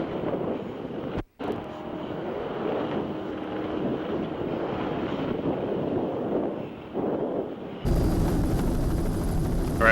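A helicopter flies over an offshore powerboat race, a steady broad rotor and engine roar heavy with wind buffeting and a brief cut, with a harsher, louder section near the end.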